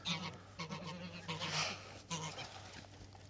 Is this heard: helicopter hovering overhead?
no